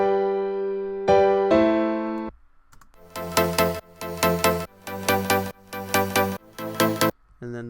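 Piano chords from an electronic breakdown: a few sustained chords ring out, then a series of rhythmic, bright repeated chord stabs follows, loud and close with no talking.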